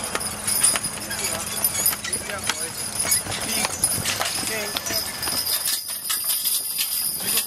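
A horse trots with a steady clip-clop of hooves at a show where Clydesdales are being judged, the beat running under an announcer's voice amid a busy outdoor crowd.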